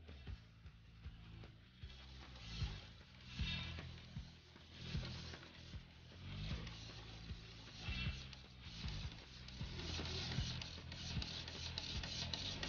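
An office printer working through a document in a head-to-head print race, its mechanism whirring and clicking in repeated cycles, steady and fairly close with no voices.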